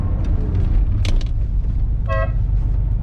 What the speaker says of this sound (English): did you hear that horn?